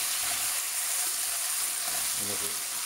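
Tomato sauce and chopped tomato pieces go into a pan of frying Sri Lankan devilled anchovies, and the pan gives a loud, continuous close-up sizzle throughout.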